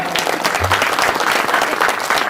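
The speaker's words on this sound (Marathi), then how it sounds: "यानंतर सगळे पुरुष टाळ्या वाजवतील महिलांसाठी जोरात" Men in a crowd clapping loudly at a public religious discourse, a dense continuous roar of applause that stays at full strength throughout, close and energetic.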